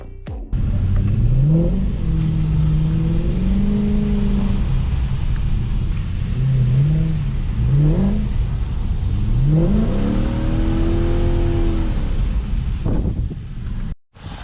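A Mercedes C63 AMG drives in snow at night. The engine rumbles continuously and rises and falls through repeated revs and gear changes, loud and close with wind noise.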